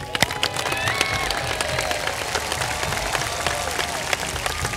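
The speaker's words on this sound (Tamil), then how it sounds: "விவசாயிக்கு ஒரு கைத்தட்டுங்க பார்க்கலாம்" An audience at a Maha Shivratri gathering with farmers at the Isha Yoga Center bursts into sustained applause, with dense clapping and some cheering going steadily at close range for the whole stretch.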